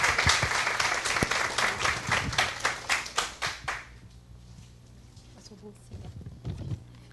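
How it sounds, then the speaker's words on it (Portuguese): Audience applause for Júlia at the close of a library and technology event, brisk rhythmic clapping that fades out after a few seconds, leaving room murmur and a voice speaking. "Palmas para ela."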